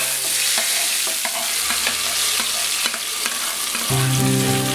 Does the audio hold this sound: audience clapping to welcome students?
no